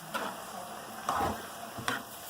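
Garlic frying in hot canola oil sizzles quietly while a utensil stirs it in three distinct scraping strokes.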